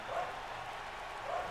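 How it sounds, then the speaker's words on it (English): A dog barks twice from a distance, faint and muffled, with the two barks spaced over a second apart against a low background. "She always barks at him, I don't know why."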